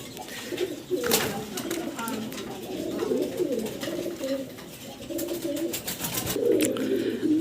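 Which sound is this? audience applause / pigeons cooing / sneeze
pigeons cooing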